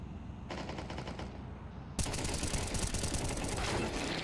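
Gunfire in Counter-Strike on the Overpass map comes as dense, continuous automatic bursts that grow noticeably louder and harsher halfway through.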